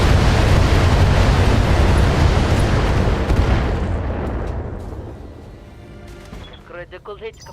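A massive missile barrage in a BattleTech mod, loud dense roaring explosions packed together, then fading into a rumbling tail as a voice briefly speaks at the end.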